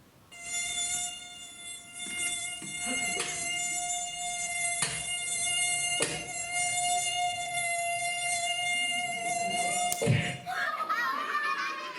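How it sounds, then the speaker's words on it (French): A mosquito's high, thin whine holds steady, with faint knocks and murmuring voices in the background and a sharp thump near the end. "le son qui va avec le vol du moustique"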